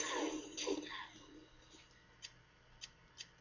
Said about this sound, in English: Try to not cough into my microphone.